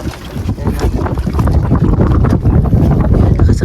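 Strong wind buffets a small boat out at sea while crabbing nets are worked, producing a loud, continuous low roar and rushing gusts close to the microphone, with no clear talking.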